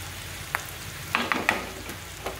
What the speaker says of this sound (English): you can insert 2 teaspoons of ginger garlic paste. Stir fry for about 10 seconds